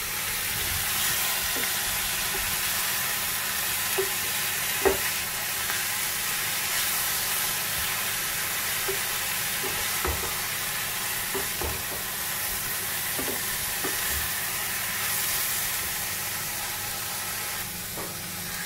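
Vegetables for chicken noodle soup sizzle steadily in a pot, with a constant frying hiss and occasional soft scrapes and clinks of stirring, close and alone without speech.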